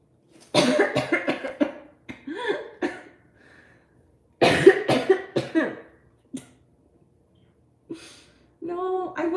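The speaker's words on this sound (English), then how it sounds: "now I'm like coughing a ton" A person coughs repeatedly in close, harsh bursts, several clusters of rapid coughs with throat clearing separated by short pauses, loud and near in a quiet indoor space.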